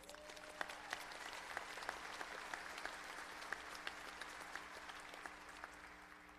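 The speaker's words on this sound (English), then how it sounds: "Could you please give her a round of applause?" An audience at a university commencement ceremony applauds with steady, dense clapping that stays even throughout, heard from a distance in a large hall.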